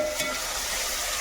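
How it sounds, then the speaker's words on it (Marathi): Chopped tomatoes and peanuts frying in oil in a pan for chakolya, a steady close hiss and sizzle with a faint scrape of stirring near the start. "आता टोमॅटो आपल्याला याच्यामध्ये नरम होईपर्यंत शिजून घ्यायचे आहे."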